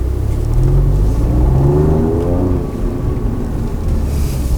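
Alfa Romeo Giulia Quadrifoglio engine revving hard in race mode, a loud, continuous aggressive roar with rising and falling harmonic sweeps and wind buffeting over the microphone, no talking.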